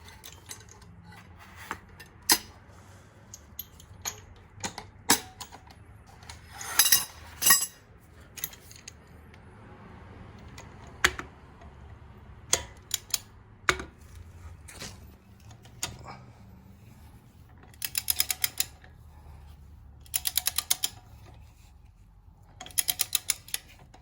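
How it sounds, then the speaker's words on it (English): A wrench torquing lug nuts on a Toyota truck wheel, heard as scattered metallic ticks and clicks with several rapid ratcheting bursts, fairly close and with no talk. "let me torque it down."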